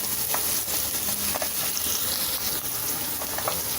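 Carrots and beans stir-frying over a high flame for Schezwan fried rice, a steady close sizzle and hiss throughout with faint stirring scrapes and clinks, no talking.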